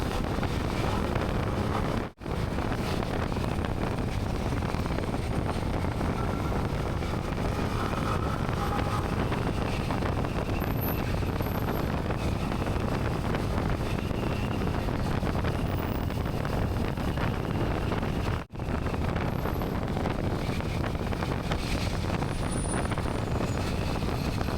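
Wind buffets the microphone loudly and continuously while travelling by road from Colmar Tropicale to Kuala Lumpur, a dense roar broken by two brief dropouts.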